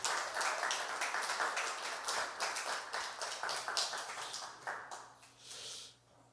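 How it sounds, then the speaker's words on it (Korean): Church congregation clapping to welcome a member's visiting parents, a dense patter of hands that holds steady, then thins and fades near the end. "한번 박수로 한번 환영하겠습니다"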